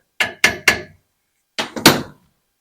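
Sharp hammer taps strike a metal block clamped in vice grips during a fly tying vise base modification, three quick close blows, a pause, then three more, loud and alone.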